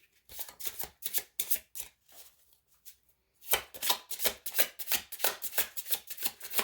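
Tarot cards being shuffled by hand, quick papery riffling in two bursts separated by a short quiet pause, close and crisp with no speech.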